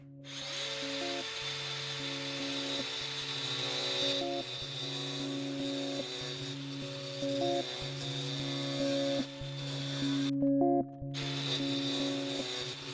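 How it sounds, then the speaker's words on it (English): A flap disc grinder sands along a line on a RANS S-21 aircraft windshield and skylight, a loud continuous whining drone with shifting tones and one brief cutoff near the end, no talk. "I'll use probably my sanding flapper disc and go up to the line"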